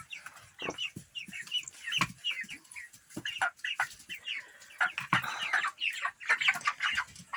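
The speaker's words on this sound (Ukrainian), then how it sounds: "Ось такі у нас курчатка." A flock of 36-day-old broiler chicks cheeping and clucking continuously, many overlapping short calls close by, fairly loud throughout with no talking.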